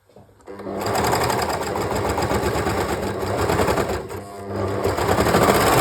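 An overlocker stitching jersey fabric, loud and close, a steady high-speed mechanical whir with a rapid rattle that runs almost without a break after a quick start.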